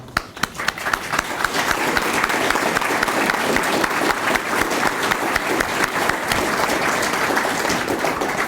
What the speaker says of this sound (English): I want to applaud you all.